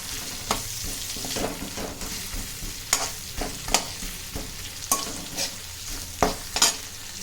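Pork frying in a pan with spice powders, stirred with a utensil that clicks and scrapes at intervals over a steady soft sizzle.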